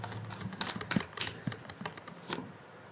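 Tarot cards being shuffled by hand, a soft close riffling and tapping of card edges in quick irregular bursts for a few seconds, faint and alone.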